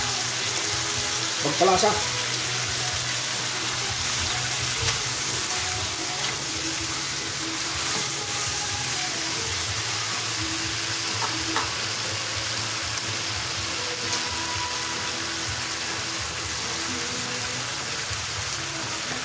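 Beef shank for ginisang bulalo sautés in a pan with sauce just added, giving a steady broadband sizzle throughout with occasional stirring clatter, while a voice briefly speaks over it.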